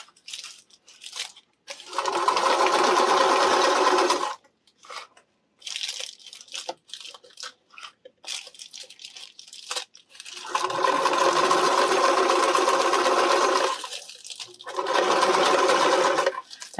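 A domestic sewing machine stitches fabric for RV reflector shades in bursts, its fast mechanical whir starting and stopping several times, close and loud, with quiet handling sounds in the gaps and no talking.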